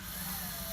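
A power drill runs steadily for a brief moment, boring a pilot hole into sheetrock wall for sheetrock screws during a hole repair, loud and continuous with no talk.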